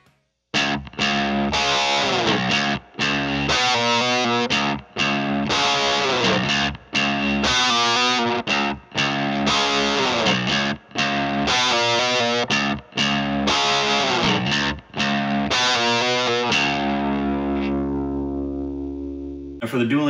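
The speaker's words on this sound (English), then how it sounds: "the response would be my Les Paul Studio going through a JCM 800" A Les Paul Studio electric guitar played through a JCM 800 amp chugs heavily distorted power chords in a steady rhythm with short gaps, then lets the final chord ring out and fade.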